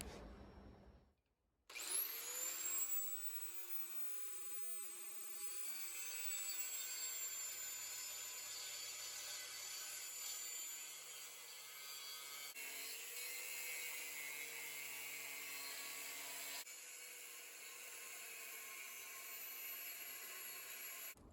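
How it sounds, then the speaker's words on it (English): An angle grinder whines steadily and loudly as it cuts a small circle out of the bottom of a rusted steel tank, starting after a brief pause and running continuously with slight shifts in pitch and load. "We're going to chop that out with that grinder right there."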